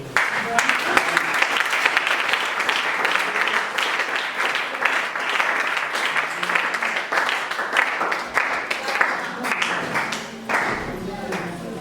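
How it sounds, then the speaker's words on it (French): An audience at a religious gathering applauding loudly, dense sustained clapping for about ten seconds that tapers slightly near the end, with voices mixed in under it. "on acclame très fort"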